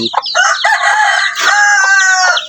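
Chickens with two-week-old chicks in a coop, a loud close rooster-like crow with clucking and squawking overlapping in a dense, continuous burst.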